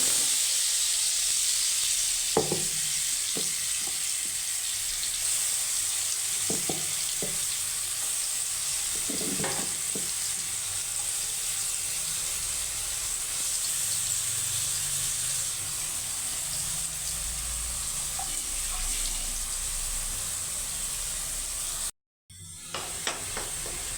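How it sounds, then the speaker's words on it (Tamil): Ground onion and garlic paste sautés in oil in a pan, a steady soft sizzle with occasional stirring scrapes and clinks, heard alone and fairly quiet with a brief dropout near the end. "நல்லா வதங்கட்டும்"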